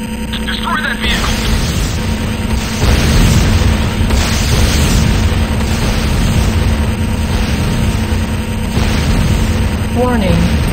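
A structure is destroyed in the video game Command & Conquer Renegade, with heavy booming explosions and crackling debris over continuous battle noise, plus brief whistling tones and voices talking during the action.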